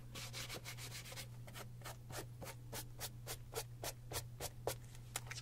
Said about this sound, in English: There's some areas that need a little bit more buffing out